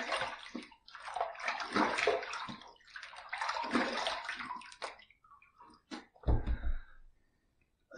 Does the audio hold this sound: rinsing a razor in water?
yes